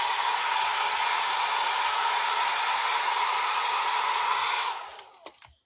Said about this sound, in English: this dryer is really loud.